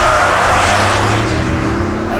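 A Porsche Cayenne Turbo E-Hybrid 2024 with its V8 engine drifting, a loud sustained engine roar with rising tone and a hint of tyre noise, heard close up.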